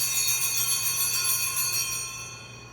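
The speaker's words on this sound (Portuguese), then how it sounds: "Toca o sino uma única vez curta." A single short strike of an altar bell at Mass rings out bright and close, its shimmering metallic tone sustaining and slowly fading across the moment with no talk.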